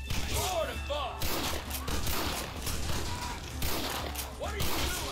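Gunfire in Red Dead Redemption during a gate assault, repeated rifle and pistol shots cracking over a continuous battle din, with game voices shouting underneath.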